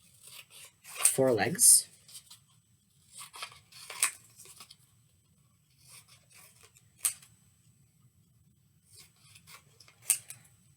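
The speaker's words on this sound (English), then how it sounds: "And out of the third piece, we'll cut out" Scissors snip paper for a craft Arctic fox: a few crisp cuts and rustles close by, spaced irregularly, while a person talks softly between them.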